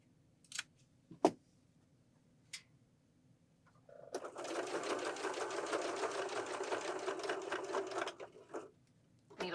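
Sewing machine stitching piping onto one side of a pillow, a few brief needle clicks and then a steady rapid whirring run of about four seconds that stops abruptly.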